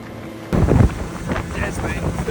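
Gusty wind buffets a boat out on the water during a fly fishing trip for tarpon, a rough rushing roar that starts abruptly and carries on loud and close.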